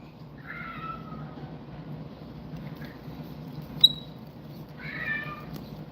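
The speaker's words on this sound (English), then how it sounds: "My cat just started meowing, so he wants to go outside." A male house cat meows twice at indoor distance, a short call near the start and another near the end, over a low steady room hum, with one sharp brief click in between.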